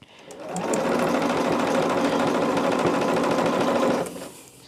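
A sewing machine running with its dual feed foot lowered, a loud, even mechanical whir that spins up, holds steady for about four seconds, then winds down, heard up close with no talking.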